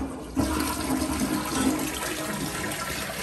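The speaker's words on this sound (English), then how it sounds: "Very strong flush." A strong toilet flush in a hotel bathroom in Boone, North Carolina bursts in after a short quiet start and rushes on loudly and steadily to the end, alone without talk.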